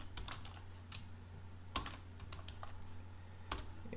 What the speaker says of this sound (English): Let me just type localhost